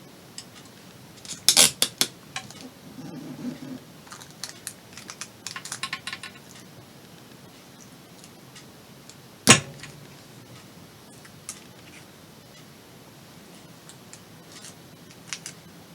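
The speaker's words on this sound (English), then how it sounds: "the sound you heard was my knuckle hitting the table surface trying to rip off the" A knuckle knocks against a table surface while tape is being ripped off: a sharp, close single thump stands out, with a cluster of small clicks and rustles earlier and faint handling noise in between.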